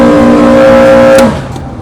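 Jet ski engine driven at full acceleration on water, a loud, steady droning whine with strong tonal harmonics that holds near and even, then drops away sharply after about a second and a quarter.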